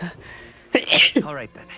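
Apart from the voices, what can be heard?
sneeze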